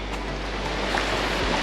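A fast-flowing river near Choquequirao in the Peruvian Andes gives a steady broadband rush, moderately near, with some low wind rumble on the microphone and no talking.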